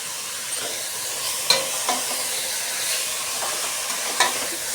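Steady sizzling hiss of blended tomato puree frying in a pan for pasta sauce, with a few faint scraping stirs, close and continuous, no voices.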